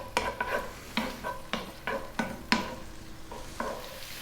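Garlic and cumin seeds with onion frying over medium heat in a pan, a sustained sizzle broken by repeated sharp scrapes and clinks of a utensil stirring, close and clear with no talk.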